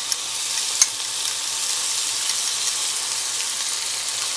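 An egg fries in a pan with canned tuna, giving a steady, even sizzle that runs throughout with one brief click near the start and no voices.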